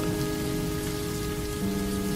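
Steady rain hisses and patters against a car while it is driven through darkness, a dense continuous wash with a low rumble underneath, heard with no talking.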